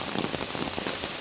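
Heavy rain during Typhoon Kristine, a dense, continuous downpour hammering on surfaces with no pauses, loud and close.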